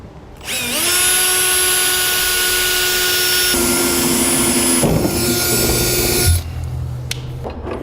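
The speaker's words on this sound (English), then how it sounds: "I'm going to start with a small drill bit and a pilot hole." A small bit drills a pilot hole through a 2015 Chevrolet truck bed for a Curt overbed folding-ball gooseneck hitch, one loud steady whine that spins up, holds for several seconds, then dips and stops.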